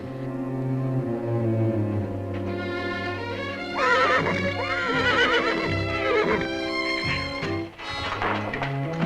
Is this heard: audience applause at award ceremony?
no